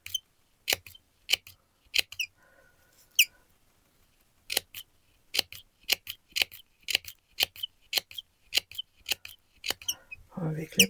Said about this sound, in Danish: Og vi klipper, og vi klipper.